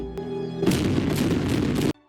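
A deep mortar boom from an artillery vessel bombarding a port in Empire: Total War, one heavy blast rolling on for over a second before cutting off sharply, loud and close.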